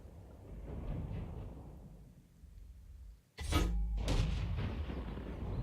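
Artillery gun firing in World of Tanks, a 105 leFH18B2 self-propelled gun: a single loud boom with a sharp crack partway through, followed by a rumbling tail over a low engine drone.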